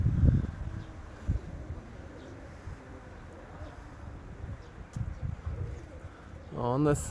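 Pigeons coo softly near a loft, with low, throaty calls rising and falling amid wind and outdoor background noise, a brief voice heard at the very end.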